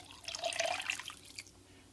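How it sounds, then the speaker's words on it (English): About a cup of water poured into a pot of Persian gormeh sabzi stew, a short splashing, bubbling pour lasting around a second before tapering off, close and soft. "And then I'm going to add my cup of water,"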